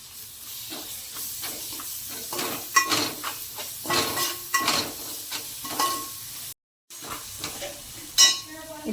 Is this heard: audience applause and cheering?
no